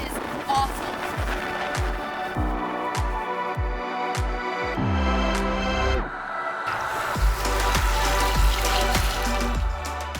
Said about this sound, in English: We are pounding into the waves and the wind's right on our nose.